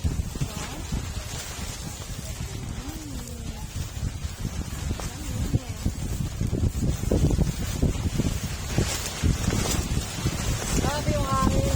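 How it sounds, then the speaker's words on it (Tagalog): Strong wind buffets the microphone at a lakeside campsite at Caliraya, Laguna, a steady low roar rising in gusts throughout, with people talking intermittently over it. "Grabe yung hangin."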